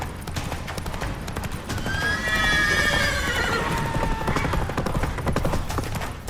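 A horse in The Witcher 3, set on Skellige, neighs in a long rising whinny over steady clip-clop hooves, loud and near against continuous game ambience.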